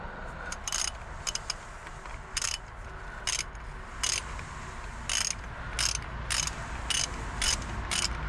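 A ratchet tightening a bolt on the rear brakes of a 2000 Ford F350 7.3L dually Super Duty, giving repeated short bursts of rapid clicking with brief pauses between strokes, close and fairly quiet.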